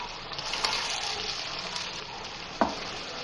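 Tomato paste frying in a pan for a dhaba-style aloo matar sabzi, a steady close hiss and sizzle with a couple of sharp clinks from stirring, no talking.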